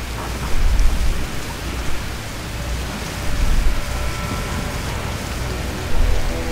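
Steady heavy rain and rolling thunderstorm rumble from the video game Modern Warfare 3, a continuous wash of downpour with low thunder swells recurring every couple of seconds, no voices.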